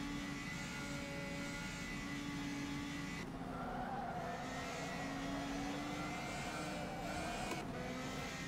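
Race car tires squeal and skid as the car understeers off track in the rFactor 2 racing simulator, with a steady engine drone and sustained tire scrub that shifts pitch partway through, continuous and moderately loud without speech.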